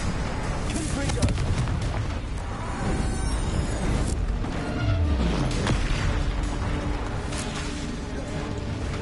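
Confringo fire spell explosion in Hogwarts Legacy, a dense run of booming blasts and fiery crackle in heavy, continuous combat noise, with a sweeping whoosh partway through and a voice audible in the mix.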